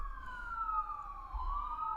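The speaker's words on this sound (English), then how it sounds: "if you could hear the sirens going back in the background" A siren wails steadily in the distance, its pitch slowly sliding, over a low traffic rumble with no one talking.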